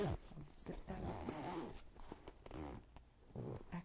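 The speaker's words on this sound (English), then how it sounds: "Zip that up." A small bag zipper is pulled closed up close in a binaural recording, with several quick rasping strokes and soft handling rustles of the bag, and a voice speaks over part of it.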